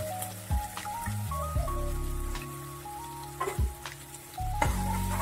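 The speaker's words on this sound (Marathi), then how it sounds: "त्याला थोडंसं शालो फ्राय होऊ देऊया व्यवस्थित" Bread upma with chopped onion shallow-fries in a pan, a steady close sizzle broken by repeated scraping and stirring of a spoon against the pan.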